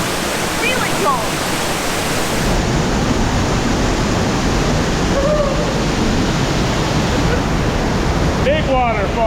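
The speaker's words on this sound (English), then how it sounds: "Big waterfall." Big waterfall at Zapata Falls in Colorado, a loud, dense, steady roar of crashing water filling the space close by, with brief faint voices and a few high squeaks rising over it.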